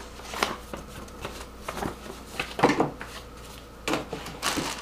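A black-and-white fold-out paper user's manual for an Enermax Fulmo Advanced mid-tower PC case is handled up close, giving several short, soft crinkles and rustles spaced across the moment.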